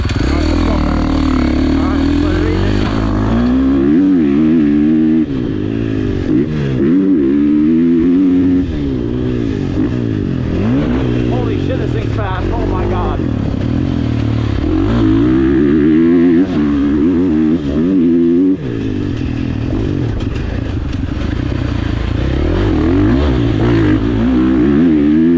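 A 2023 KTM 450 dirt bike roars continuously up close, its engine pitch rising and falling as the rider accelerates and shifts, loud and unbroken throughout, with some talk mixed in.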